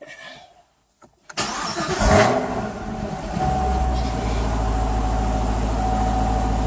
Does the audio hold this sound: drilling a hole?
no